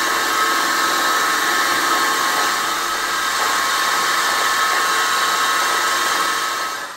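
A 6 mm end mill cuts dry at a 1 mm depth of cut on a milling machine, giving a loud, steady high-pitched machining whine with a dense buzzing tone that holds evenly for several seconds, then eases slightly at the end.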